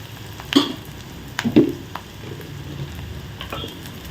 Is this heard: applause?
no